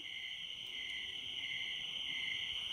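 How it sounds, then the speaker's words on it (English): Crickets chirping in a video game night scene, a steady, high, continuous trill at low volume with no other sounds. "I only hear crickets right now."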